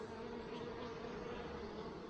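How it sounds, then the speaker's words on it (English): Honey bees at a Flow hive make a steady, dense buzz that runs without a break, moderately close but low in level, with no voices. "Busy bees."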